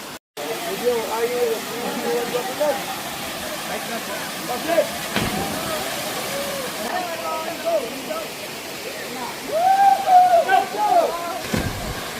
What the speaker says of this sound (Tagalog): Narinig na namin yung mga tubig.